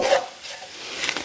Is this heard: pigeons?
no